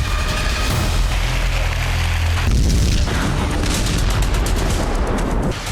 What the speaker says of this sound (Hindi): यूक्रेन की जमीन का एक हिस्सा धमाके की गूंज से कांप